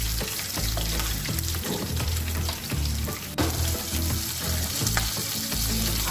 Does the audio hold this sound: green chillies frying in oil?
yes